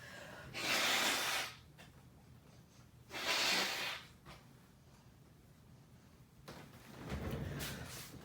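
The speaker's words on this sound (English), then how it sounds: "I have to blow my nose." Three bursts of forceful, hissing nose blowing, each lasting about a second, separated by brief quiet pauses and close to the listener.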